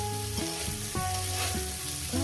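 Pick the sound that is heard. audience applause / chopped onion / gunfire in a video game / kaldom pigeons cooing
chopped onion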